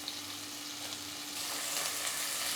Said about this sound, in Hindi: फिर इसमें हम 2 मीडियम साइज़ के प्याज डालेंगे